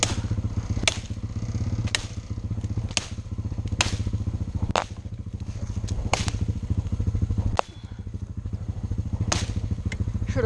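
Dull machete chopping wood outdoors, with sharp chops striking roughly once a second over a steady low motor-like drone.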